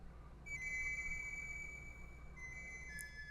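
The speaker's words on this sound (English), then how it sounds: "Lola hummed a strange melody." Lola humming a tune in the Illusion of Gaia video game, a thin sustained whistle-like melody of held notes over a quiet low hum, faint and alone.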